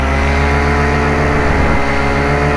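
A paramotor engine runs loud and close, its steady drone rising and shifting briefly mid-way as throttle is added, then settling back to an even roar, with no talking.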